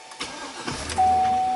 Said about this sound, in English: start and idle engine.